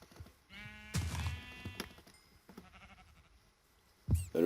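Sheep in the video game Minecraft bleat in several wavering cries, one long and loud near the start and another short burst at the end, with quiet game sounds between.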